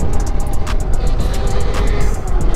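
An electric Yamaha YZ85 supermoto converted from gas being ridden, its steady whine and rushing wind noise continuous and close throughout, with no talking.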